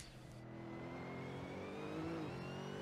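A Mercedes SLS GT3 race car in Assetto Corsa holds a loud, steady engine drone with a slowly rising pitch for a few seconds, close and alone.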